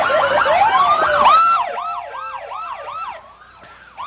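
Local police cars in the 1995 Port Huron Bluewater Festival parade sound loud, close sirens, overlapping wails giving way to a fast, regular yelp pattern that repeats several times.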